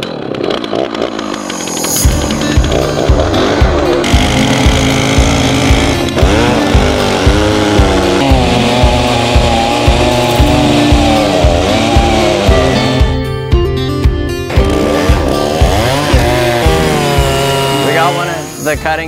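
A big sawmill cutting a log into 4/4 lumber: a loud, steady engine roar with strained, grinding saw noise under load, continuous throughout with slight pitch shifts as the blade works through the wood.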